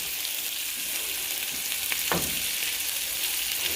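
Sausages and onions browning in a frying pan on a weeknight German-style meal, a soft steady sizzle and crackle throughout with a brief utensil scrape near the middle, fairly quiet and with no talking.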